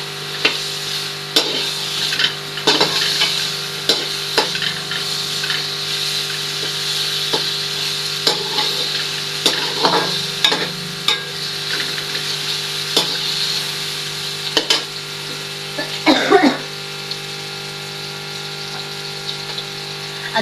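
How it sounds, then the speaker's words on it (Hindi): Ghee sizzling in a pan on the stove, a steady frying hiss for about twenty seconds, broken by scraping and knocking from a stirring spoon, close and with no talking. "बिस्मिल्लाह करके घी डाल लेते हैं।"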